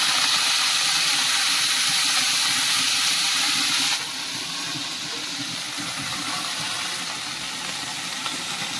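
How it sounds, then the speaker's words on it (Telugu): Coriander leaves frying in two spoons of oil in a pan give a loud, steady, close hissing sizzle that drops slightly in level midway and then continues evenly. "ఇప్పుడు మనం కొత్తిమీర కొంచెం వేయించేస్తున్నాం"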